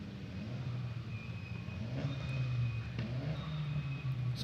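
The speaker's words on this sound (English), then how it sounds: "Some drivers revving the engines." Clio Cup race cars idle and rev on the starting grid at the Red Bull Ring, a steady low engine rumble rising slightly in the middle with faint higher whine above.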